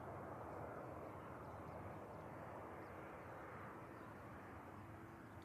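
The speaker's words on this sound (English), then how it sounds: "TUI Dreamliner positioning in from Glasgow" A TUI Boeing 787 Dreamliner arriving at Manchester Airport from Glasgow, its engines a steady broadband roar held at an even level throughout, with faint talk in the background.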